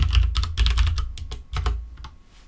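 Quick bursts of clicky keystrokes on a computer keyboard as a kubectl command is typed, irregular clusters of taps close up that slow and fade toward the end.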